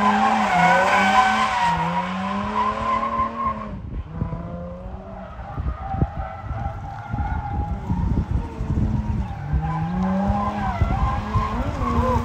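Infiniti G35 coupe drifting, tires squealing and skidding in long wavering screeches with the engine revving underneath, loud and close, no talking.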